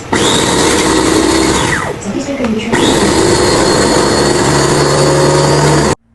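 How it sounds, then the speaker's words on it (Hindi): A loud, steady electric whir of a small kitchen chopper running for several seconds, briefly dipping and changing pitch midway, then cutting off abruptly. "आपके पास चॉपर हो तो चॉपर में बना सकते हैं"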